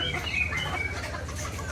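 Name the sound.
rooster clucking in Malang street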